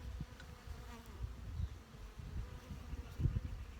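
Honey bees in an opened backyard hive give off a steady, close, low buzzing drone that swells and fades in a few soft pulses, with no voices.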